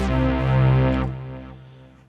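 Fast Pulse Saw, a mono synth patch in Steinberg HALion 7, plays a bright, buzzy sustained tone that holds for about a second, then drops in brightness and fades as its harmonics thin out.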